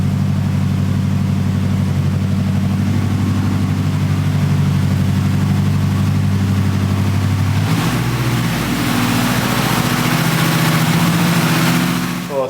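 A 1000 hp all-wheel-drive car engine running just after its first start, a loud, rough idle with a deep, steady rumble and a slight shift in tone partway through, close by and alone.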